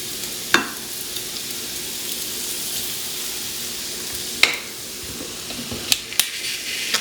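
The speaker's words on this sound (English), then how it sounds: "I really like our waffle machine because it's a double waffle machine." Belgian waffle batter cooks in a double waffle machine with a steady hiss and sizzle. A few sharp clicks and taps cut through the hiss.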